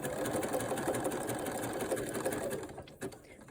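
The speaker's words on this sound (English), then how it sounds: "So as you sew, obviously pull the elastic as it's where it's pinned." Close by, a sewing machine runs a zigzag stitch attaching elastic to high-waist knickers, humming in a steady rapid chatter before slowing and stopping near the end.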